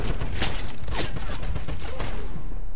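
Dense, sustained gunfire from the Wolfenstein video game, with rapid overlapping shots and bursts throughout at a loud, constant level.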